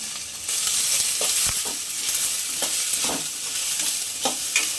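Gobi fried rice with curry leaves being stir-fried in a hot pan: a steady, loud sizzle runs throughout, broken by several scraping stir strokes of the spatula.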